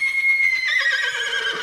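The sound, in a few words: horse neighing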